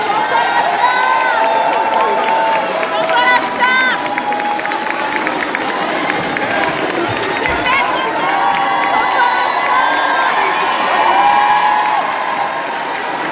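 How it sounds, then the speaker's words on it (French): A large crowd cheers and shouts continuously with applause mixed in, loud and sustained, with excited voices rising above the din. "applaudissez-la, s'il vous plaît."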